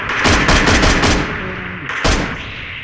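Rapid automatic gunfire from PUBG Mobile crackles in loud, closely spaced bursts. A short pause follows, then another sharp volley, all close and with no speech over it.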